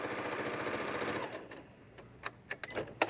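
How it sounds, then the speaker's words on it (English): Sewing machine stitching quilt pieces at a steady rapid whir up close, stopping after about a second, then a few soft clicks and handling noises. "just sew till you come to the end"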